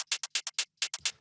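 Soloed hi-hats from a drum rack in a music mix: a quick run of crisp, bright closed-hat ticks in a steady rhythm, about nine hits in just over a second, dry and isolated.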